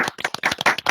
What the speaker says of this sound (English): we'll give a bit of a clap